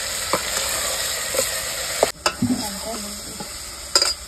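Onions and tomatoes fry in a pan for an eggplant bharta dish, a continuous sizzle broken by several sharp clanks and scrapes of a spoon stirring against the pan.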